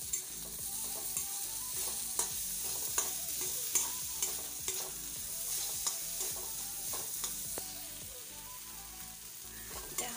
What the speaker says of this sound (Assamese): এয়া মোৰ ভাজি লৰাই